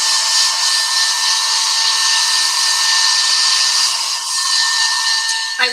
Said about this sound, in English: hit this with the blow dryer